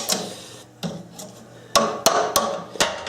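A chisel is struck to split glued wood off a turning blank, producing a series of sharp hammer taps: two softer ones, then four louder, close knocks spaced unevenly, with no talk.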